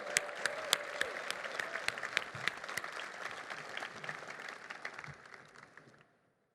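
An audience at an award reception applauds Kathy and the SpaceX team with steady, dense clapping that carries evenly from moderately far away, then tapers off and stops near the end.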